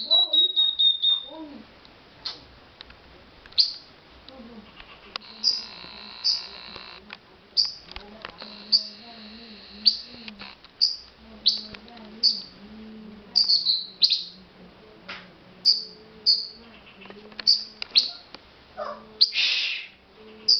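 A small bird that has flown into a house at night chirps indoors in repeated short, sharp tweets, close and fairly loud, spaced at irregular intervals across a quiet room.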